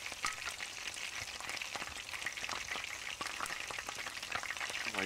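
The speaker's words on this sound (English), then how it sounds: "that boiling sound is really loud right now" A loud, constant boiling and bubbling hiss fills the scene in a horror video game, steady throughout without any speech.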